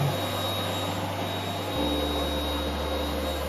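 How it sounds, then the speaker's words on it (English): Workshop vacuum running, a constant loud whining hum that drops slightly in pitch partway through, continuing alone without speech. "This vacuum."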